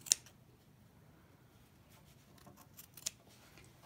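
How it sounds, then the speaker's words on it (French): Scissors snip through fabric beside a sewn seam, a couple of sharp close cuts near the start and end over a quiet background, with no speech. "on doit couper en laissant à peu près 2 mm à côté de notre piqûre. Donc on coupe ça."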